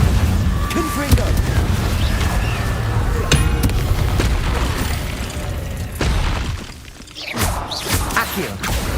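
Spell explosions and blasts in the Hogwarts Legacy video game, loud booming bursts and whooshes one after another, with a voice casting spells over the effects.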